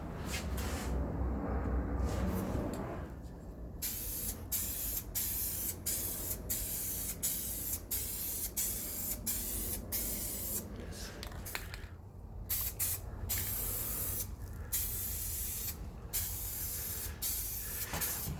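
Aerosol spray paint hisses in repeated bursts as a coat goes onto the bottom of a tailgate storage part for an FZJ80 Land Cruiser, close and steady, with short pauses between passes.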